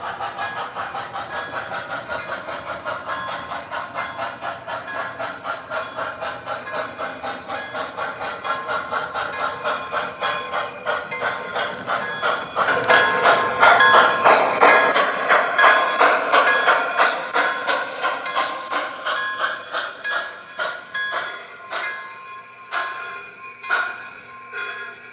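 A model freight train runs through an indoor train room, giving a steady rhythmic clicking and clacking of wheels on track that grows louder midway, then becomes more spaced out with faint bell-like tones near the end.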